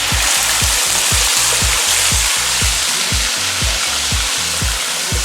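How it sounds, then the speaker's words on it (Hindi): Onion paste frying in oil with cinnamon, star anise and cumin for Sindhi biryani, a loud steady sizzle with a regular pattern of stirring scrapes and no talk. "इसे अच्छी तरह भून लेते हैं।"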